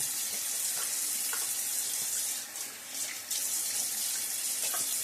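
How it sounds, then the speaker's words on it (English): Tap water running steadily into a bathroom sink during a wet shave in mid-October, a continuous close hiss and splash with brief dips in flow, no talking. "The tap water, as we're into mid-October now, is getting cooler"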